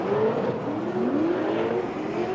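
An 1,100-horsepower drift car races at a drift challenge event, its engine droning and wavering in pitch as it revs, steady and moderately loud with no talking over it.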